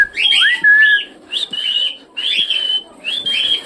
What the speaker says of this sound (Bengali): পাখিগুলো চেঁচামেচি করছে